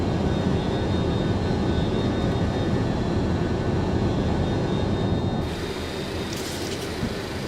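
Jet engines of a Boeing 727-200 passenger airliner in flight in a simulator give a steady, loud broadband roar that drops slightly in level near the end.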